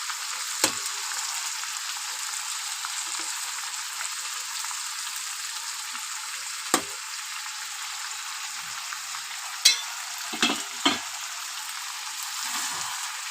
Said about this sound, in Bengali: এখানে আমি হাফ রসুন নিয়েছি আর আলুটা দিয়ে দেবো, দিয়ে একবারে কষিয়ে নেব